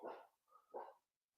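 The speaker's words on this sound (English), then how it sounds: "I know that's not Dan's dog" A dog raising the alarm at someone walking by gives two sharp, close barks in quick succession, the second slightly softer, followed by quiet.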